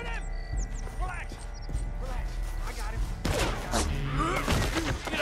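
Gunshots fired at an escaping man in the Red Dead Redemption 2 video game: sharp bursts of gunfire with clattering and hoof-like thuds, growing denser in the second half, while voices talk over it.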